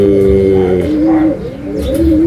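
Racing pigeons cooing close by in repeated soft, throaty coos, at a pigeon race finish after a 342 km flight from Aparri, Cagayan, steady over a low background murmur.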